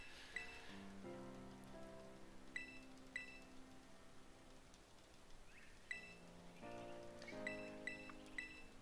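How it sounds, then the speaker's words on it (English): Steady rain patters over the whole stretch in Pokémon Violet, overlaid by game music with repeated chiming notes; no voices. "It's raining far more often than average today for me."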